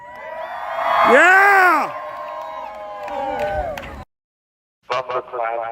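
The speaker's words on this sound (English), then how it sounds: "give me a cheer for the video" A graduation crowd whoops and cheers loudly for a couple of seconds, then the cheering fades into a brief silence before voices return.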